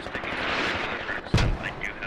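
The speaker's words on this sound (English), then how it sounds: "And here comes smoke artillery barrage." Smoke artillery barrage in the tactical shooter Squad, loud rumbling impacts and blasts over dense, continuous battlefield noise, with one heavy close thump standing out near the end.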